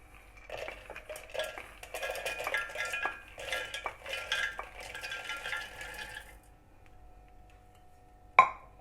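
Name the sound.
roasted peanuts being put into a mixer jar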